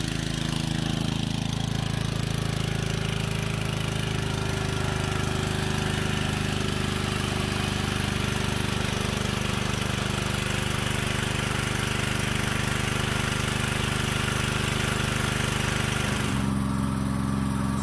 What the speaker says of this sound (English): Generator seems to like running here.